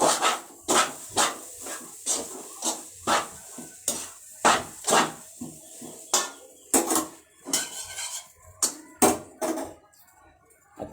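Spatula scraping and clinking against a pan while stirring garlic fried rice (sinangag), a loud irregular run of sharp metallic knocks and scrapes, closely spaced, with no voices.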